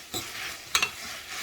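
Spaghetti with beef stirred in a pan over low heat, a soft scraping and faint sizzle with two brief louder scrapes of the utensil, close and alone without talk.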